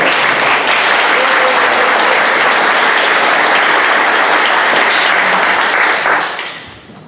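Loud, sustained applause from a Korean church lecture audience, greeting a pastor as he stands; dense steady clapping fills about six seconds, then tapers off at the end.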